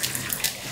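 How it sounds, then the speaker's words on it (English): Sodium hydroxide poured into distilled water while stirring for hot process soap, a brief steady hiss of running liquid, quiet and close, with no voices. "I'm going to pour this into the distilled water, so the sodium hydroxide, while I'm stirring."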